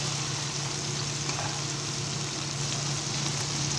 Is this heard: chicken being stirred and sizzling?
yes